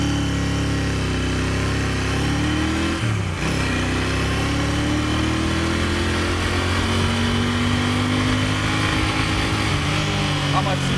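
A Royal Enfield Continental GT 650 motorcycle revs and pulls hard from 0 to 80 in second gear, pitch climbing steadily as it speeds up, loud and continuous throughout.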